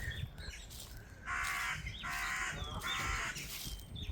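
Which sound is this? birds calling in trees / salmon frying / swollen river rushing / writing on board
birds calling in trees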